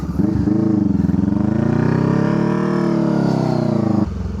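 A motorcycle engine runs while the bike is ridden on Fraser Island at high tide. It makes a loud, sustained drone whose pitch rises and falls steadily, with no talk over it.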